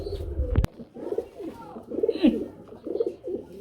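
Running pigeons coo in a low, throaty series of soft calls, fairly close, with a sharp knock near the start and faint background chatter.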